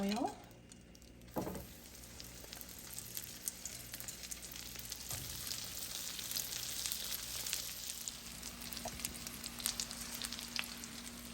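Chicken pieces frying in a pan of hot oil, a steady sizzle running throughout with a thump near the start as pieces go in.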